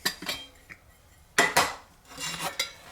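Metal chafing fuel can set down into a Stanley cook set pot, making several sharp metallic clinks and clanks close by, with quieter scraping between.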